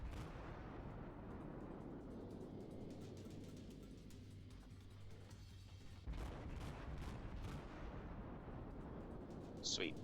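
Naval gunfire from a teammate's warship in the World of Warships game rumbles in low booms under a continuous droning background, with a sharper burst near the end.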